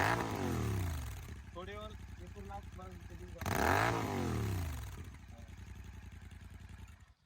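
Royal Enfield GT 650 twin with a Red Rooster aftermarket exhaust revs up and drops off twice, the second a sharp loud blip, with crackling pops between; someone talks over the engine throughout.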